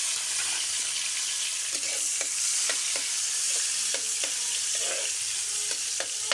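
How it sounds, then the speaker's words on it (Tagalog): Ingredients sautéing in hot oil, with a steady close sizzle throughout and repeated small clicks and scrapes of stirring. "Igigisa natin po. Mainit na po yung oil natin."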